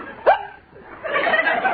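A single sharp hiccup, said to come from an empty stomach, pops out near the start, followed by a softer, murmuring vocal sound that resembles chuckling.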